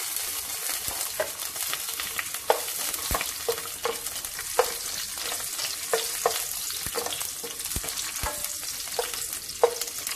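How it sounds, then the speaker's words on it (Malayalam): Cashews and raisins fry in a hot pan with a steady sizzle, broken by frequent sharp clinks and scrapes as a spoon stirs them against the metal. "ആദ്യം ഒന്ന് വറുത്തെടുത്ത് മാറ്റി വെക്കാം."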